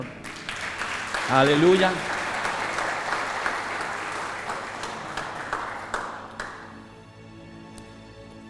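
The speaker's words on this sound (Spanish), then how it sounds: "¿Por qué no le das un fuerte aplauso al Señor?" A church congregation bursts into strong, dense applause that swells, holds for several seconds and then tapers off, with a voice calling out over it.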